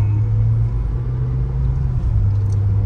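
Mahindra Thar 5-door SUV driving along a road, with a steady low engine drone and road rumble that continues evenly throughout.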